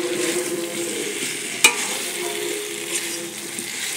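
Spices sizzle in hot mustard oil with dried chili, bay leaf and garam masala as they are stirred, a steady close frying hiss broken by one sharp utensil clink against the pan.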